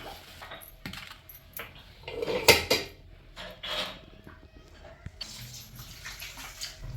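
Water splashes and sloshes as country chicken is washed clean by hand, with intermittent clinks of metal pots and utensils close by.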